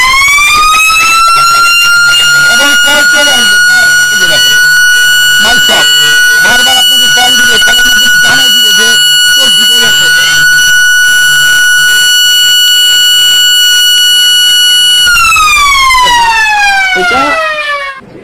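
A Motolock anti-theft security alarm in a battery shop wails with a loud, steady electronic siren tone and layered harmonics, continuing for most of the stretch before sweeping downward at the end, while someone talks underneath.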